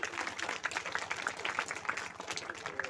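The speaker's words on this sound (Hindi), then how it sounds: "जोरदार तालियों से स्वागत करें" Scattered clapping from a crowd welcoming a guest being garlanded at a devotional bhajan gathering, a steady patter of hands lasting a few seconds at moderate distance.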